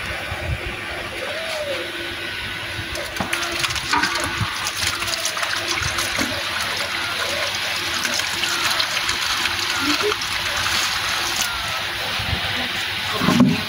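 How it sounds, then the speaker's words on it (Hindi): Water is poured and splashes for goats to drink, a continuous gushing, trickling stream with occasional faint sounds, close to the microphone. "ये बकरियों को पानी देता हूँ।"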